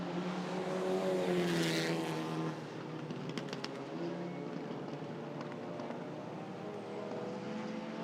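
Race cars lapping the full international circuit at Mondello Park during a club racing round, engines droning steadily at a distance, louder in the first two seconds and then a sustained mid-distance roar.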